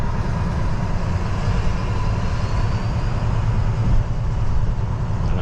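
A manual car cruises in 7th gear through traffic, giving a steady low engine and road hum with tire noise, constant and moderately loud without any shifts or talk.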